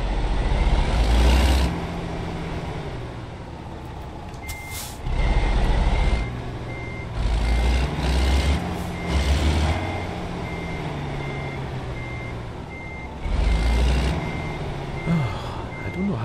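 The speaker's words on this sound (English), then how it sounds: "I want to park the trailer there, exactly there." A heavy truck reversing a trailer into a parking spot in American Truck Simulator, steady electronic reversing beeps over a low diesel engine hum, with periodic louder engine revs and air brake hisses.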